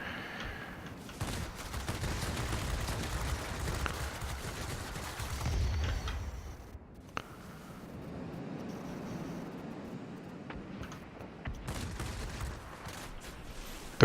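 Rapid bursts of heavy 20mm cannon fire from a MiG-9 in World of Warplanes rattle out in sustained volleys, pausing briefly, then resuming more faintly against a rushing background roar.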